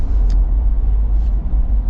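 Ineos Grenadier Fieldmaster SUV, a 2025 model, engine pulling under throttle: a loud, close, deep steady rumble through a short burst, with no talk.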